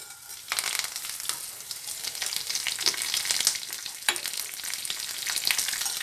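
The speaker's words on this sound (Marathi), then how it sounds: "तेल चांगलं गरम झाल्यावरती आपण हे फोडणीचं साहित्य घालून घेणार आहोत." Tempering spices hit hot oil in a pan and burst into a loud, bright sizzle with sharp pops and spatters. The crackle flares again partway through and stays close and steady, with no voices.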